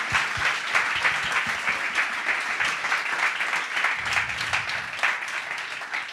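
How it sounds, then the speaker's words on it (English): A crowd applauds steadily, dense clapping filling the whole stretch at a fairly loud, even level without letup. "I want them to have a huge round of applause"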